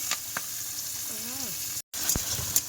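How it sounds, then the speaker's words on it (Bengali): Eggs and green peas frying together in a pan hiss steadily for a few seconds, with a couple of small pops and a brief murmur of voice in the middle. "ডিম মটরশুঁটি সব একসাথে ভেজে নিচ্ছি।"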